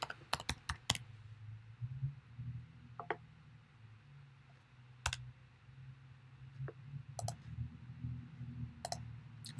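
Fingers tap at a computer keyboard in short, irregular bursts of soft clicking keystrokes with pauses between them, close but quiet against a low background hum, with no talking.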